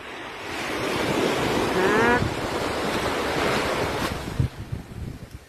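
Cool wind blows steadily outdoors and buffets the microphone in a continuous low roar and rush, with a few bumps of handling near the end.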